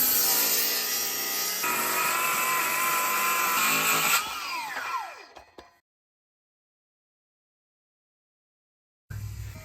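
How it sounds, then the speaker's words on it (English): A saw cuts across the top of a slab door, a loud, steady power-tool whine that holds for about four seconds and then winds down into silence, with another burst of noise starting near the end. "I use the saw, but I don't try to cut the 1/4 inch perfectly"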